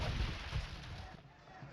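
Elite cannon galleons fire in Age of Empires II, their cannon blasts booming out as a few heavy, close bursts that fade into a rumbling tail.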